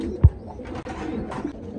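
Pigeons at a pigeon sale where breeding pairs are sold with their young, giving soft low coos with one brief louder burst near the start, over steady background noise and no talking.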